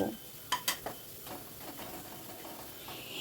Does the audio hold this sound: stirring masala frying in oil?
yes